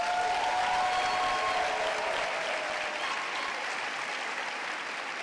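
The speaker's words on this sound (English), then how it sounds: "He deserves a bigger round of applause." A large audience applauds at a royal lecture at Howard University, sustained dense clapping filling the hall at an even level for several seconds with no voices on top.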